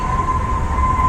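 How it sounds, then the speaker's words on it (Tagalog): An elevated LRT or MRT train in Manila rumbles overhead in a loud, continuous roar with a steady high whine running through it and no one speaking. "LRT or MRT na rin sa taas."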